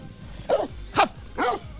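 Three sharp dog-like barks come in a quick, evenly spaced row, close and fairly loud, most likely a human voice imitating a barking dog.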